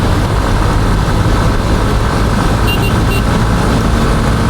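A Honda Hornet 2.0 motorcycle with a 185 cc engine, heard from the seat while riding, giving a loud, constant broadband engine drone mixed with rushing wind and no clear pauses.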